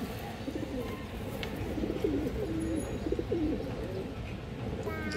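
A row of low, rolling coos comes from pigeons in a loft, mostly in the middle stretch, over a constant background murmur of other birds and a few faint chirps.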